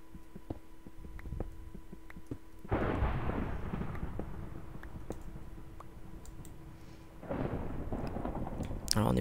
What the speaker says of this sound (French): Alors les éclairs étaient très proches de moi.